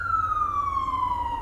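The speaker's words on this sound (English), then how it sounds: "With the ambulance going past." An ambulance siren wails steadily as it passes along a road near a garden on an August bank holiday weekend, one continuous loud tone with slowly falling pitch and a low traffic rumble beneath.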